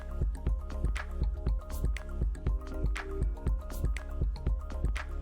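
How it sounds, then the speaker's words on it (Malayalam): Melted jaggery syrup poured into a pan for Kerala turmeric ada, a steady run of soft wet drips and squishy splatters over a low rumble, with no voices. "ഇനി ഒരു പാൻ അടുപ്പത്ത് വെച്ചിട്ട് അതിലേക്ക് ഉരുക്കിയ ശർക്കര ഒഴിച്ചു കൊടുക്കാം."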